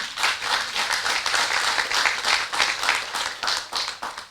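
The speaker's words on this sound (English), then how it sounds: "We should all give USP a round of applause for achieving that." A university audience applauds at the launch of a student orientation week, steady dense clapping from many hands that holds for several seconds, alone without any talk.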